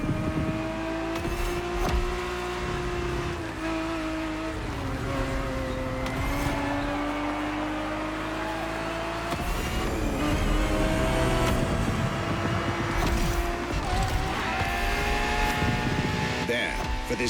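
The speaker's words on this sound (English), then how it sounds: "365 GTB4 is the perfect vehicle for you to experience Ferrari racing as it felt back in the 70s" A 1970s Ferrari 365 GTB4 engine in the racing game The Crew Motorfest drones loudly and continuously, pitch climbing and dropping through gear changes, with talk over it.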